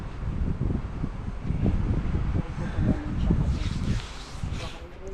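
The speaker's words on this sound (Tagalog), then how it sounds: "Malakas ang hangin, guys." Strong wind of about 20 to 30 miles per hour buffets an outdoor microphone in gusty, rumbling bursts, with rustling in the background while a person talks over it.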